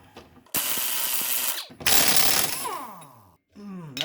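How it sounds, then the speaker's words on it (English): A pneumatic impact wrench set on high hammers in loud, chattering bursts while removing an idler arm bushing from a 1984 Mercedes 300SD W126, with gaps between the bursts and the pitch sliding as it spins down. "I had my air wrench on low actually, so I'm going to put it up on high to get it out of there."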